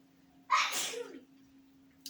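A single sharp human sneeze bursts out close by, a quick breathy explosion that trails off within about a second, surrounded by a faint steady hum.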